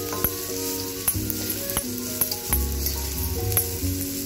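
Cabbage sizzles steadily as it is stir-fried in a pan for vegetable noodles, with regular sharp clicks and scrapes of a spatula turning the shreds.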